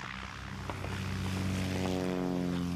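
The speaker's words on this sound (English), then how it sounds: "It's one of them planes from the airfield, I expect." A propeller airplane from a nearby airfield drones overhead in an animated film, a steady, low, humming engine tone that grows slightly louder as it approaches, with no voices.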